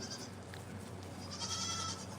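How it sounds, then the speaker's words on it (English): Goats bleating on a small farm, a faint wavering call rising late in the short stretch over low background noise. "And then now the goats are going."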